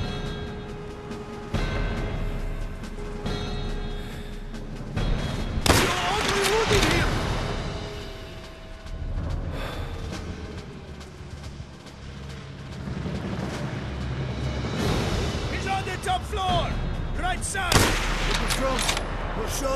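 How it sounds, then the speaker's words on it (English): Gunshots in Call of Duty: World at War during the Vendetta sniper mission: a few loud, sharp cracks scattered over a rumbling battlefield ambience, with voices talking throughout. "I've heard those shots."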